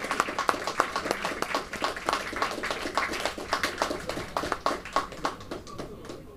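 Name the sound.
applause for the women's Pentamind champion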